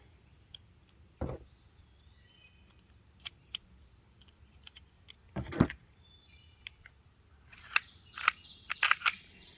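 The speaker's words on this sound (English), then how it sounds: "let's put the pistol back together." Umarex Glock 19 Gen5 MOS pistol being reassembled, scattered sharp metallic clicks and a couple of louder snaps of parts sliding into place, close up and quiet between sounds.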